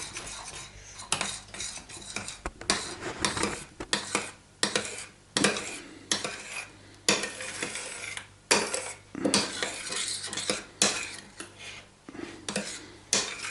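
Spoon scraping and stirring semolina in a cooking pot, repeated rhythmic scrapes and clinks against the metal every second or so, close and clear with no talking.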